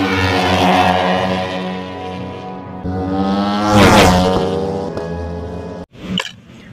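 A toy racing motorcycle gives a loud, steady buzzing engine-like drone with a rising swell near the middle, then a brief dropout and a short rough burst at the end.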